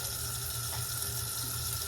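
Running tap water splashes steadily into a sink while glass storage containers are washed with soap and water, a continuous close rushing gush with no talk.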